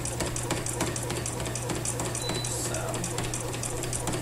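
A sewing machine stitches along the seams while quilting in the ditch, its quick mechanical chatter running continuously at moderate level beneath a voice talking throughout.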